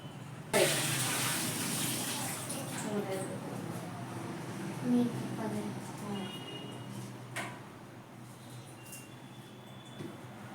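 Water pours through a sieve and splashes loudly at first, then trickles and drips more softly as it drains away, with faint background voices.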